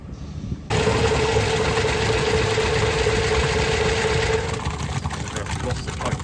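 A macerator pump motor for slurry mixing, recently cleared of gravel bag wrapped around the slurry port, starts abruptly and runs with a loud, steady mechanical hum and rattle, easing slightly near the end.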